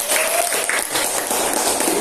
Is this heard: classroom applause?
yes